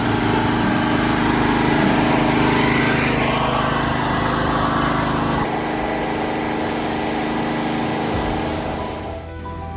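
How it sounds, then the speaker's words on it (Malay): A large generator drones steadily and close aboard a boat, a constant mechanical roar that runs throughout before easing slightly at the end. "Bising lah, ada bunyi generator. Besar generator lah."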